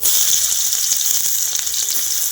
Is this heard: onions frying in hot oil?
yes